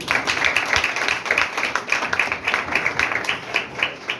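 A church congregation claps together during a Pentecost sermon, a dense, steady patter of many hands sustained throughout at moderate loudness with no talk over it.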